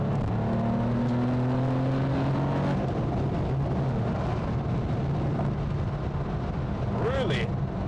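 A Gunther Werks Porsche 993 Coupe, a naturally aspirated car, accelerates with a steady engine drone from inside the cabin, its pitch climbing and dropping between gears under continuous road noise, with a brief voice near the end.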